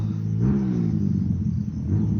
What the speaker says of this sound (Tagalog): pakinggan yung mga makina nila